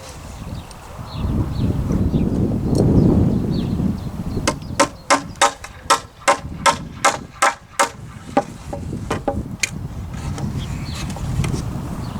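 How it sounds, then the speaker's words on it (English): About ten sharp, evenly spaced hammer blows drive a nail to tack a timber fence rail onto a post outdoors, loud and near, followed by a few lighter taps over wind and background noise. "I just tacked one nail on the middle there."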